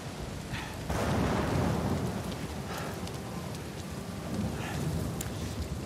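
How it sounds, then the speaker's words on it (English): Heavy rain pours steadily during a thunderstorm in Uncharted 4, with a deep rumble of thunder swelling near the start and faint distant cracks later. No one talks. "Man, this is a bad storm."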